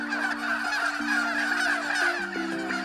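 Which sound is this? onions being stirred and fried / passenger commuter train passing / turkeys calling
turkeys calling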